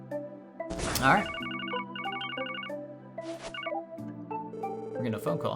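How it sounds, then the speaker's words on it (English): An in-game telephone rings in the RPG Trails from Zero, with repeated electronic ring bursts over background music and a few short vocal sounds. "We're getting a phone call."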